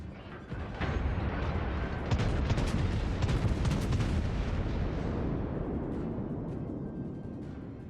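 Battleship guns in a naval video game unleash a heavy artillery barrage, a dense, loud rumble of overlapping booms that swells after the first second and rolls on continuously with no voices.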